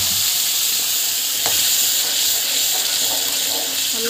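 Ground masala paste sizzles and sautés in hot oil for a dhaba-style mushroom masala, a steady close hiss with a few soft stirring scrapes and no talking.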